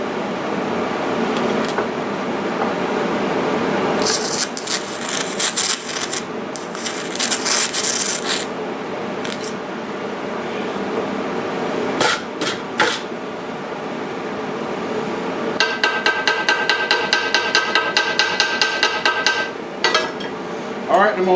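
Welding on a Bridgeport mill vise comes through as intermittent bursts of harsh crackling hiss, separated by quieter gaps, with a faster pulsing stretch toward the end.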